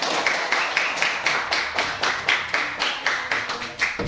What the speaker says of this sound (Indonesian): Ya, beri tepuk tangan.